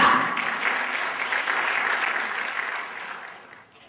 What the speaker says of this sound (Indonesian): jadi langsung saja kita beri tepuk tangan untuk dapat hadir ke depan dan berbagi ilmu kepada kita semua, Dr. Erni